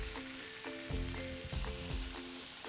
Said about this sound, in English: you want your pan to be fairly hot because you want the beef to cook fast